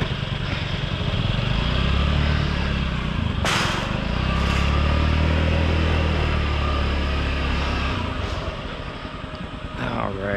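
A white Honda Metropolitan scooter engine runs steadily and loudly nearby throughout, a constant low drone loaded onto a utility carry-on trailer, with brief clanks partway through.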